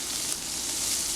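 Onion and garlic sautéing in hot oil over medium heat, a steady close sizzle with bright crackling throughout, no talk.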